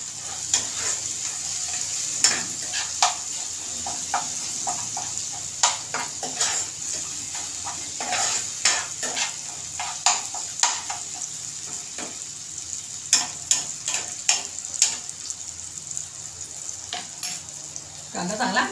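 Onion and tomato frying in a pan for a dried prawn curry, a steady bright sizzle with frequent scraping and clinking as a spoon stirs against the metal, close and continuous.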